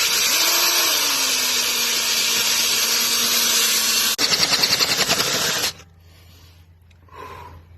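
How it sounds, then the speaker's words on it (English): A power drill bores into a stripped lug nut on a wheel, whining steadily at high speed, then chattering hard as the bit bites into the metal before it stops; a faint hum remains afterward. "So we're having to drill it out."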